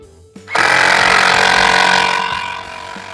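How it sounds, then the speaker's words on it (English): A loud, steady power drill whirs continuously up close, boring into wood, for a few seconds after a brief click, then winds down slightly at the end. "and drill away."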